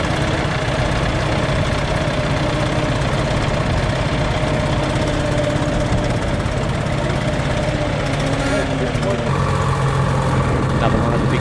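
A vintage Chamberlain tractor engine at a tractor pull in Heyfield, Victoria, Australia, runs steadily at low revs, a continuous rumbling drone with a slight shift in pitch near the end.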